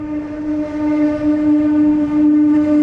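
A metro train pulls into Laxmi Nagar station with a steady, loud tonal whine and rumbling rail noise throughout, close by.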